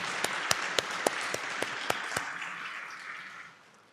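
Audience applause at a programming contest opening ceremony, steady broadband clapping with a few sharp louder claps standing out, fading away toward the end.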